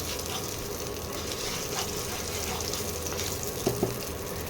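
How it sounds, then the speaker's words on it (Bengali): Cumin seeds sizzle in hot oil for a homestyle egg curry, a steady, fairly soft frying hiss with a faint crackle running continuously throughout. "এই তেলের মধ্যে সামান্য একটু জিরে ফোড়ন দেব"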